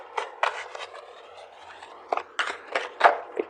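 Tarot cards being shuffled by hand, somewhat sloppily, in a run of crisp riffling and scraping bursts, each brief and close, with short pauses between them and no talking.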